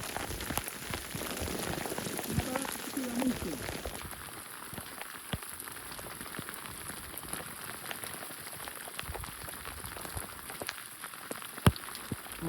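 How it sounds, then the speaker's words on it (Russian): Hard, pattering hail mixed with rain on Kilimanjaro, with sharp scattered ticks over a constant wash of falling water. "Это град с дождем."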